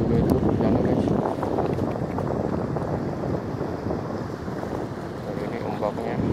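Ocean waves wash steadily at a rocky seaside fishing spot, a continuous loud rumbling surge with wind buffeting the microphone throughout.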